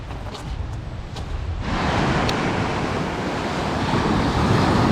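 Ocean surf on the shoreline at Rialto Beach in Olympic National Park rises into a loud, steady wash of breaking waves mixed with wind noise.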